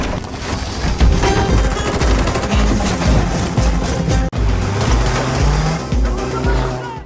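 In an action-film escape, a motorcycle engine revs and whines loudly, with rising and falling pitch, against dense crashing impacts and rapid gunfire-like bursts.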